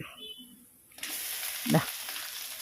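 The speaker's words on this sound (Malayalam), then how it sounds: "ആ പുളിയും ഇത് കൂടെ ഇട്ടിട്ടാണ് നമ്മൾ വഴറ്റിയെടുക്കേണ്ടത്" Grated coconut, dried red chillies and tamarind for a Brahmin-style kootu curry hit a hot pan with a sudden sizzle that continues steadily, broken by a brief scrape of stirring.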